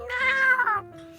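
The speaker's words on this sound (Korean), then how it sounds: "보통 이제 고양이 냐옹 하면서 우는데 얘는 자기를 쓰다듬어야 될 때 안 쓰다듬으면은" Cat crying plaintively, wanting to be petted: a single drawn-out, pleading meow, close and clear, trailing off into a softer tail, with no talking.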